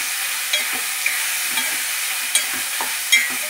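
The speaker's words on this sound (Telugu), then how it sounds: "ఉల్లిపాయలు బాగా తొందరగా వేగాలంటే చిటికెడు సాల్ట్ వేసుకోమండి. మళ్ళీ కలిపి పెట్టుకుందాం." Onions fry with a pinch of salt in a pan, a steady bright sizzle running throughout, broken by a few soft, scattered stirring scrapes.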